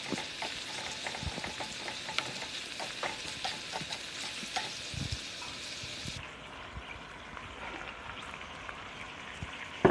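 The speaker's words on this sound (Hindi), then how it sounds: "चिकन को भी प्याज के साथ ही फ्राई कर लें।" Chicken pieces frying together with onions in a pan while cooking vegetable and chicken macaroni, a steady close sizzle with faint stirring scrapes throughout, easing slightly near the end, with no talking.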